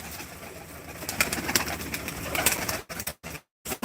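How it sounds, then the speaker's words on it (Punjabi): Pigeons coo on a farm in a soft, repeating chorus of low, throaty calls layered over one another, with a few brief pauses and dropouts near the end. "ਤੁਹਾਨੂੰ ਆਪਾਂ ਕਬੂਤਰ ਦਿਖਾ ਰਹੇ ਹਾਂ"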